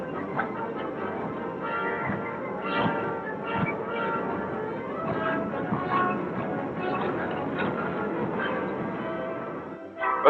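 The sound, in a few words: speeding freight train on the rails, 1942 film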